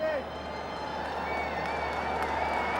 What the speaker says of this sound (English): that's the Chennai crowd there for you